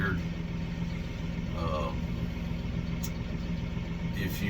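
A Massey Ferguson 4707 tractor engine idles steadily throughout, a continuous low rumble with a constant hum and no clear revving, while faint voices carry on in the background.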